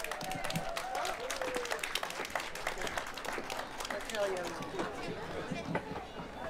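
An outdoor crowd at an Indonesian pasar and street fair in Leiden applauds a singer, scattered clapping mixed with murmuring chatter and a singing voice drifting over the noise.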